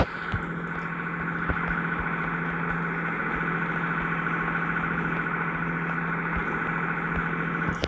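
A 1086 farm tractor engine running steadily while drilling wheat in a field on a 1980s Wisconsin farm, a continuous mid-pitched drone heard from inside or near the cab, with faint clicks and rattles and no talk.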